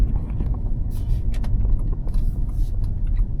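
Steady low road rumble of a taxi car driving, heard from inside with engine and tyre noise and faint rattles, no talking.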